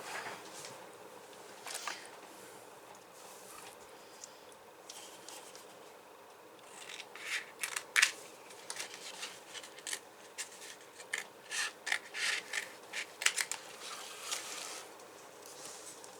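Scissors snip through fabric for a small, fiddly calendar sewing piece, a run of quiet crisp cuts that grows busier and denser in the second half, with no talking.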